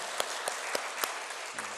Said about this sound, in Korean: 우리 제1여선교회 다시 한번 우리 큰 박수로 감사하겠습니다